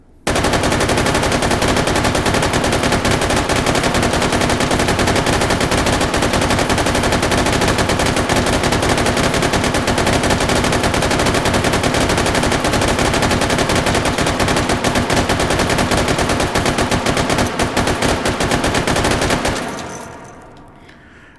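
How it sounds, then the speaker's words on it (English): An M249 machine gun fires in the video game Hot Dogs, Horseshoes and Hand Grenades, a loud, unbroken automatic burst lasting about nineteen seconds before cutting off abruptly. "I brought a good old M249."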